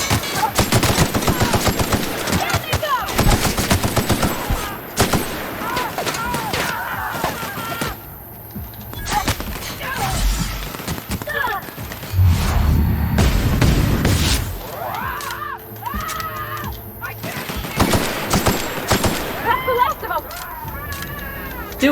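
Rapid bursts of gunfire and booming shots from the video game The Outer Worlds, including sniper fire, loud and dense across the whole stretch, with someone talking excitedly over it.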